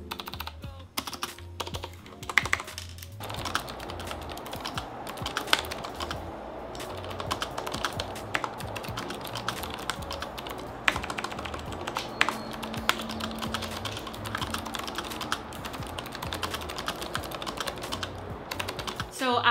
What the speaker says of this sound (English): just let you guys listen to what the keyboard sound like